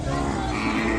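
An Ongole calf mooing close by, a single sustained, strongly voiced low call that runs through the whole moment, clear and loud over a faint background.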